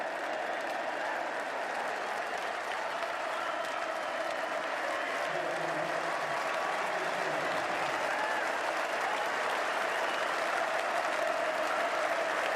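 A Lord's cricket crowd applauds steadily as Jimmy Anderson walks out to bat in a Test against the West Indies, a dense, continuous wash of clapping that holds throughout with no speech.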